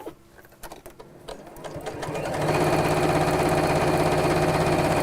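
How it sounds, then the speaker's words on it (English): Sewing machine stitching around all four sides of a small fabric piece, starting with a few short stuttering bursts, then settling into a steady, loud, fast mechanical whirr that runs to the end. "And just sew around all four sides"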